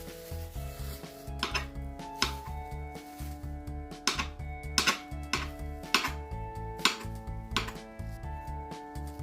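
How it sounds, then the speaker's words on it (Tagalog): A knife cuts a fried egg into strips on a board: a quick, steady run of close, crisp chopping taps with a faint musical backdrop behind. "yung ating egg kanina na pinirito, kailangan natin tong hiwa-hiwain na para maging strips din siya"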